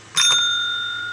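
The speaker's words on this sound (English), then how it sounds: "I get to ring my bell." A small bell is struck twice in quick succession, close and clear, then its bright metallic tone rings on and slowly fades in a quiet room.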